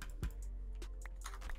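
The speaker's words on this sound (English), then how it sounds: "Stop typing!" Fast clattering keystrokes on a loud computer keyboard, a steady run of sharp clicks close to the microphone over a low hum, with no talking.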